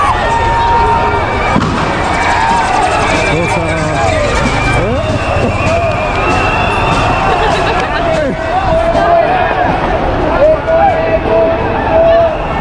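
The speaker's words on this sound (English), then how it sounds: "Those are tear guns, canisters." Tear gas canisters fired by police at a street protest in Nairobi, Kenya: loud repeated bangs and pops over dense crowd noise, shouting and running, continuous and close for the whole stretch.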